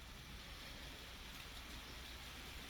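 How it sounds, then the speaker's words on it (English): Steady rain falls outside, a faint, even hiss of broadband patter heard from indoors with no other sounds. "You guys might hear that. It is raining."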